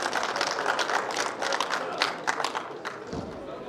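Audience applause at a doctors' meeting in a hall, a dense burst of many hands clapping at close range that holds steady for several seconds before thinning out.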